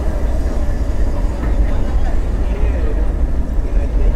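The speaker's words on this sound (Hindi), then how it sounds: "लोकोमोटिव इंजन, डीजल इंजन, और ये नीलगिरी माउंटेन रेलवे" A diesel locomotive hauls the Nilgiri Mountain Railway toy train near Coonoor: a loud, steady, low rumble of engine and rolling wheels, heard close and continuous.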